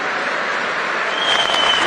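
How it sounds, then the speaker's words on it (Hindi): Brief, dense applause from a large audience at a prime minister's public speech, steady and loud, with a faint voice beneath it. "ना मैं करूं तो खुद ताली बजाते हो"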